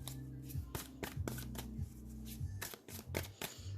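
Tarot cards riffled and shuffled by hand in quick, crisp bursts close to the microphone, several rapid flurries of snapping card edges with brief pauses between them.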